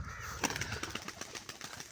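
Pigeons flutter and flap their wings close by with faint soft calls, quiet and uneven bursts of wingbeats against a low background.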